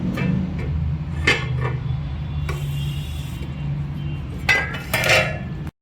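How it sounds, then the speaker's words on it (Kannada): A griddle pan for cooking chapati is set down on the stove with a couple of metallic clinks and clatters over a steady low hum, with no talking. "ಒಲೆ ಮೇಲೆ ಅಂತೂ ಹಂಚಿಟ್ಟೇನಿ"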